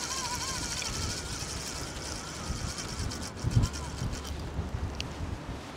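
Wind on the coast during Storm Isha, a steady rushing blow with faint surf beneath, moderately quiet and continuous, with occasional thumps of handling noise.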